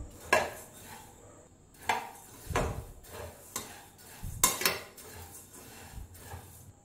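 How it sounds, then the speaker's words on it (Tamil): Coriander seeds dry roasting in a kadai over medium flame, about 1 kg, with a metal spoon scraping and clattering against the pan in irregular bursts and a soft rustle of seeds between strokes, close and fairly clear, no talk. "நான் இன்றைக்கி 1 கிலோ மல்லி வறுக்க போகிறேன்."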